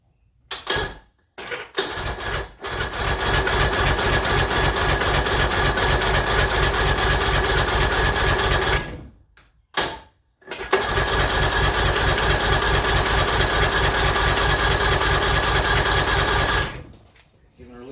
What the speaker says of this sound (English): We're going to go try to give it a test fire, so let's see what happens.